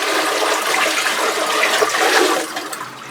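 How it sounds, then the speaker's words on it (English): A toilet flushes up close with a loud, steady rush of swirling water that tapers off slightly toward the end, with no voices. "take your 5-gallon bucket of water and flush your toilet as needed"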